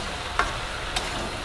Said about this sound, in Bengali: ভালো করে একটু ভেজে নেব হলুদটা দিয়ে।